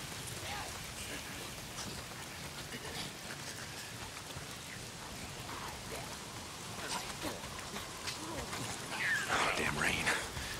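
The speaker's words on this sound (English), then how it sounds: "If it's not the freaks, it's the goddamn rain. Why is it always raining?" Steady rain patters across the open world of the video game Days Gone, a constant soft hiss of drops with a low rumble swelling near the end and quiet voices underneath.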